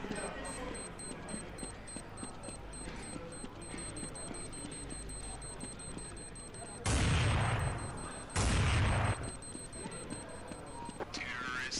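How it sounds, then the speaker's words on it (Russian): A bomb explodes in a 2011 Counter-Strike match between Na'Vi and fnatic: two loud, roaring bursts, each over a second long, follow one another closely and rise above a steady murmur of background game noise. "Ну что, взрывается бомба"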